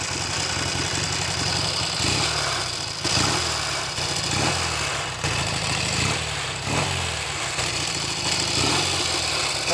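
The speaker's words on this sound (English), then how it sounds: "That's the tank rattling around making that noise." A Norton Navigator 350 motorcycle engine runs steadily at close range, a loud continuous mechanical drone with its loose fuel tank rattling along on top, the level holding even with slight surges.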